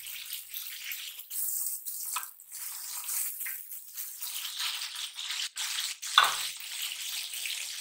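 Finely chopped onions sizzle and fry steadily in a hot pan for a home-cooked squash curry, with a continuous close crackle and occasional rattling stirs of a utensil.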